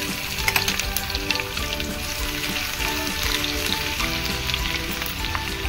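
Garlic drops into hot oil already holding cumin seeds in a pan for bottle gourd chutney, giving a loud, close, crackling sizzle that keeps spitting and popping steadily, with no talking.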